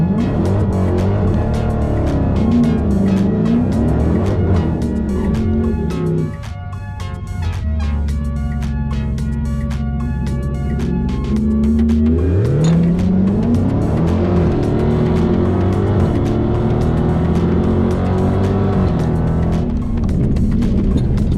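Dodge Hellcat on drag radials making a full-throttle drag strip run, its supercharged engine roaring loud and continuous through rising revs and gear changes, with a brief dip mid-run before climbing again.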